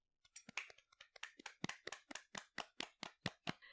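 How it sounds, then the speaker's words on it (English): A light round of applause: a dozen or so distinct, evenly spaced hand claps, close and clear, alone without talk. "Let's get a light round of applause."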